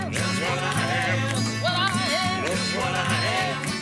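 A song excerpt, full band with a gliding melodic lead over steady bass and drums, played at moderate level without talk.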